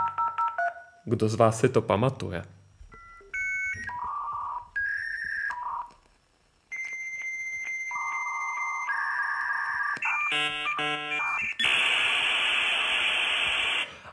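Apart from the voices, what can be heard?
dial-up modem connecting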